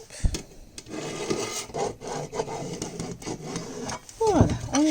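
A pen or marker scratches and rubs across fabric while the outline of a bowl-cover charlotte is traced, uneven short scraping strokes close to the microphone, ending in a few louder thumps and squeaks.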